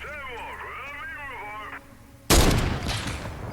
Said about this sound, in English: That was a very sloppy shot.